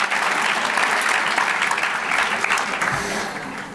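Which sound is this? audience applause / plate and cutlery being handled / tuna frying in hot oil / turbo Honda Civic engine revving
audience applause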